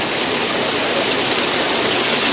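Water rushes with a constant, loud, broadband roar at the Nine-Tier Kao Jone waterfall in Suan Phueng, Thailand, heard up close with no voices.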